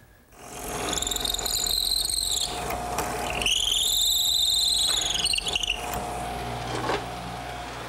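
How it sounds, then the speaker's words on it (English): A power drill bores a straight pilot hole through the end of a wooden slat for an eye screw while a garden swing is being built. The motor whines loudly and continuously, its pitch sagging and rising as the bit bites. "drill a nice straight hole through the end, like I did before, as a pilot for the eye screw"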